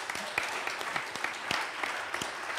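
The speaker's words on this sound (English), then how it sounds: "I think that deserves a round of applause" A round of applause from an audience at a talk, steady dense clapping with a few sharper individual claps standing out, moderately near and continuing throughout.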